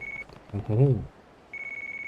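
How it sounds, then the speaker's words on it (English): A telephone ringtone rings in Yakuza 1, a steady electronic tone at the start and again near the end, with a voice talking briefly in between. "Phone call."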